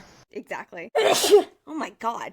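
A single sharp sneeze bursts out between snippets of casual conversation, loud and breathy against the quieter voices around it.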